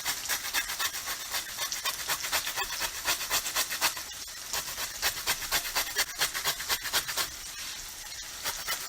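A knife or spatula scrapes lemon zest off a board while shrimp scampi is being made, giving a steady, close, rhythmic rasping that repeats through the whole stretch with no talking.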